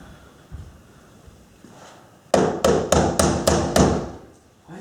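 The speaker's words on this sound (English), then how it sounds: "Whence is that knocking?" Knocking at a door, about six firm, evenly spaced raps in a quick series, loud and close, coming after a quiet stretch of low background noise.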